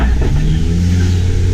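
A safari truck at Disney's Animal Kingdom drives along with a steady, loud low engine rumble and road noise throughout, close up.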